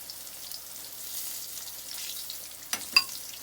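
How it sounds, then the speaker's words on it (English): Chicken of the Woods mushrooms fry in a pan with a faint, steady sizzle, then two sharp clicks stand out near the end. "I could let that one fry a little bit longer on that side."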